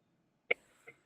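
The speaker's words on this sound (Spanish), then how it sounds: "No puedo parar de toser" A single short, sharp cough up close, followed by a softer second cough in an otherwise quiet room.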